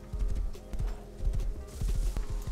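A horse's hooves clip-clop steadily in a video game, a continuous rhythmic trot of close, soft hoofbeats with a low ambient hum beneath.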